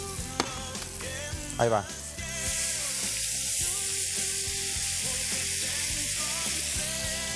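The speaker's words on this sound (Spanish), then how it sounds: "mientras se dora el ajo" Garlic browning in butter sizzles loudly and steadily in a pan, a continuous close hiss that starts after a few short clinks and a brief spoken remark.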